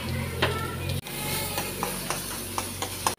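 Semolina (suji) frying with beetroot in a pan, a soft continuous sizzle broken by several sharp ticks and scrapes of stirring at irregular intervals, close and fairly quiet.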